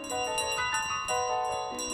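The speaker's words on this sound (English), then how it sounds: "I like how the dramatic music just stops whenever I drop the bell." A bell dropped in Untitled Goose Game rings out in a couple of bright, close metallic chimes over a held musical tone, loud and clear with no talking.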